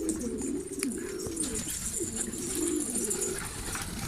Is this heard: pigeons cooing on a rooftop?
yes